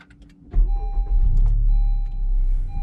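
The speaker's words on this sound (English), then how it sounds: "Now, to start the car, you put your foot on the brake and the clutch." A 2018 Honda Civic Type R with a modified shifter is started: a brief starter whir, then the engine catches into a loud, steady low idle rumble, heard close inside the car with no talking.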